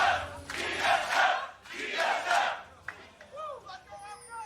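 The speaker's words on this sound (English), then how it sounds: "Familiar chants coming through once again." Esports arena crowd at an LCS Summer 2019 League of Legends match, TSM versus OpTic Gaming, roaring in rhythmic chanting swells that rise and fall twice, loud and full, then fading into scattered shouts and whistles.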